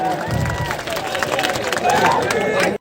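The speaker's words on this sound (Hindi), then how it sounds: "उनके स्वागत में तालियों की गड़गड़ाहट से उनका स्वागत करने की कृपा करें" Applause and crowd noise from an audience greeting a national party president at a political rally, a steady clatter of many hands with speech mixed in, continuous and fairly loud throughout.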